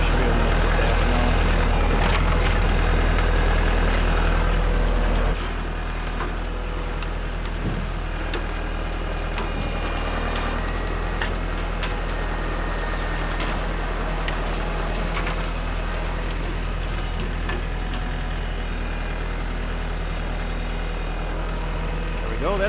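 Kubota tractor driving and pushing through forest undergrowth, a steady loud diesel engine drone running throughout with crackling and thumping of brush and branches, the engine note dropping slightly after the first few seconds.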